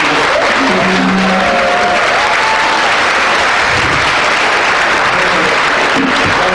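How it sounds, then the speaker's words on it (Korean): A crowd at a lecture and talk show applauds steadily and loudly throughout, with a voice faintly audible under the clapping. "다시 한번 뜨거운 박수 부탁드립니다"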